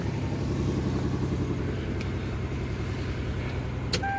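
A 1998 Toyota 4Runner engine idles close by with a rough, uneven, stumbling rumble from a misfire, running steadily for a few seconds with a small click near the end.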